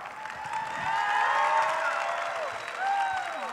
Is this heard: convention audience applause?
yes